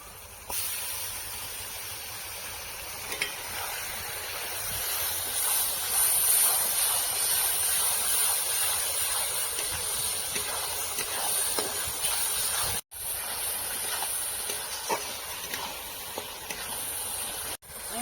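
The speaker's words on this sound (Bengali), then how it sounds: "মশলাটাকে কিছু সময় ভেজে নেবো" A paste of ginger, green chili, onion and garlic fries in hot oil for a village-style country chicken curry, giving a continuous close sizzling hiss with faint crackles and two brief dropouts near the end.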